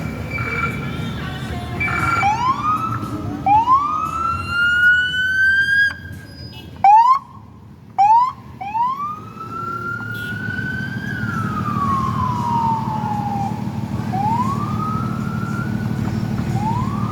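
A police cruiser's siren wails and yelps through congested traffic at Jackson Square, loud and close, its rising and falling sweeps broken by short bursts over a steady engine rumble.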